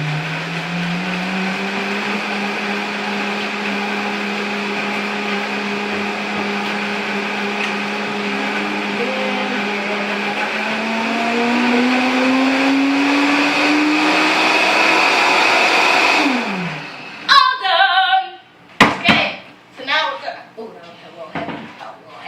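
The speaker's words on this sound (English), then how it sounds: "We're going to take our blender and put it on frozen dessert because this will be a frozen dessert sooner or later." A kitchen blender on its frozen dessert setting churns raspberry mango sorbet, a loud, steady motor whine that climbs in pitch for about seventeen seconds, then cuts out into a few clunks and knocks.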